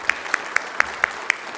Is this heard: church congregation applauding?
yes